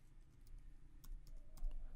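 Sparse, faint keystrokes on a computer keyboard as Java code is entered, a handful of soft clicks spaced irregularly over a quiet room hum, with no talking.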